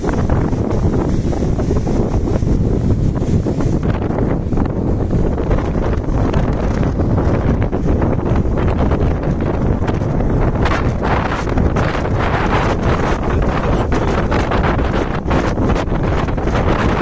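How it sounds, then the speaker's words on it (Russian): Storm surf with waves about three metres high at Divnomorsk on the Black Sea, heard as a loud, unbroken roar of wind buffeting the microphone and crashing water with no pauses. "какой-то прям ужасный шторм. Волны метра по три заходят."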